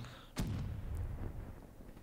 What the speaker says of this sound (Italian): Che cazzo tira le granate random così?